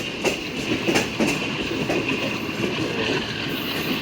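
Shalimar Express 27 Up passenger train running on rails, a steady loud rumble with clicking wheel beats and a faint high squeal, continuous throughout.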